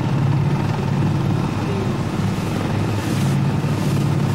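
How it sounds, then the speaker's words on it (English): Helicopter in an online video game, a loud continuous rotor and engine drone with a low steady hum that fills the whole stretch, heard alone. "All I can hear is helicopter."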